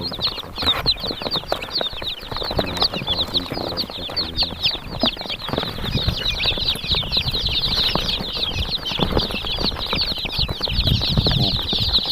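A dense chorus of high, rapid peeping from many day-old chicks, steady and loud throughout, with faint rustling beneath.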